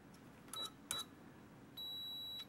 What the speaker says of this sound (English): My handy little meter, little tiny circuit mate here. It beeps though.